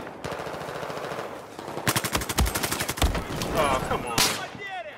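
Rapid automatic gunfire from a Battlefield 4 match, bursts of close, loud shots in quick rhythm with scattered single cracks, while someone talks briefly over it.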